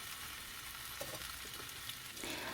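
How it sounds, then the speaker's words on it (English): Pork lard rendering into oil over medium heat gives a steady, hissing sizzle that holds level throughout, with a few brief stirring clatters and no voices. "Then let's make an oil out of pork."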